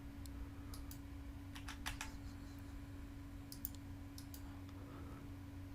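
Light computer mouse clicks during AutoCAD 2023 work on a radial engine crankcase model, scattered in short quick bursts over a quiet room hum.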